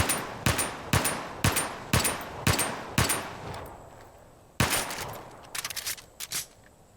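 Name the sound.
Makarov pistol gunshots in the video game Far Cry 5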